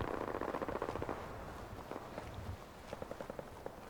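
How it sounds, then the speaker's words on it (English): Rapid bursts of heavy gunfire in the video game Fallout 4 crackle continuously, dense at first and then thinning into scattered sharp shots over a steady background rumble. "I'm hearing some heavy gunfire."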